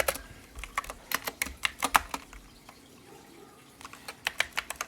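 Irregular clicks of keys on a computer keyboard as a password is typed, a close, quiet run of taps with a short pause midway, then more keystrokes.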